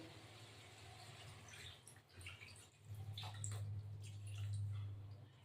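Hot water is poured into a cooking pan of curry with chicken and potatoes, a faint, steady trickling splash over a low hum, growing fuller toward the end.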